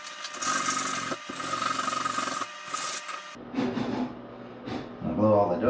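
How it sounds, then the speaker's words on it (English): A spatula scrapes and rubs over drywall to smooth off raised paper fuzz in a shop, a rasping scraping in several strokes with short pauses, close and moderately loud, with someone talking softly at the end. "I'm going to smooth that off with the spatula"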